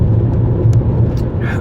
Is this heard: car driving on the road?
yes